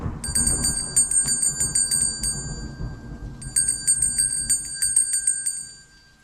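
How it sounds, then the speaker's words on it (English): A bell rings close by in two rapid bursts of ringing, with a low distant rumble of thunder running underneath throughout. "So this is the sound of the thunder further from you than the sound of the bell."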